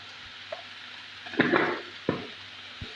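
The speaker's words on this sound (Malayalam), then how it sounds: "ഉള്ളി നല്ലോണം വഴന്ന് വന്നിട്ടുണ്ട്" Onions frying in a pan with garam masala being stirred in, giving a few soft scrapes and clatters of stirring over a faint low sizzle, quiet and close.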